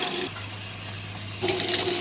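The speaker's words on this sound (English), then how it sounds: "We got the hot water in." Hot water pours steadily into a container for a bubble mixture, a continuous rushing splash that eases midway and then swells louder again near the end, with no voices.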